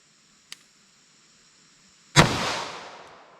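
A Norma Monolithic 9mm round fired into ballistic gel gives one sharp, loud shot with a long decaying echo, after a faint click about a second and a half earlier. No voices are heard.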